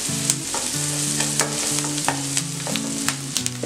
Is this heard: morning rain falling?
no